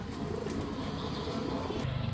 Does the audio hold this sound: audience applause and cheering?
no